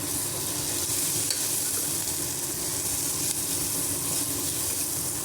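Chicken and turmeric fry in a pan, a steady, dense sizzle with a hissy wash, while faint stirring scrapes are lost under it and no voices are heard.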